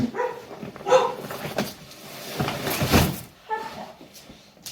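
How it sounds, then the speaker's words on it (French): Indoor home setting with a dog barking a few times at moderate distance, intermittent sharp yaps mixed with thumps and soft rustling of cushions being moved, no talk. "excusez-moi pour les bruits du chien"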